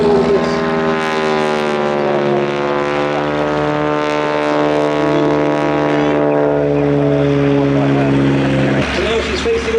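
A propeller plane drones loudly and steadily overhead during an airshow display with a wing walker strapped on top, its engine tone shifting pitch as it manoeuvres, with a commentator talking over it.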